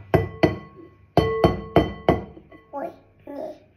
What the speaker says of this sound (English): You can't crack the egg?